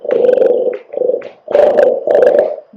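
A human voice imitates a deep animal growl in four rough, throaty bursts separated by short pauses, loud and close, alone without other sounds.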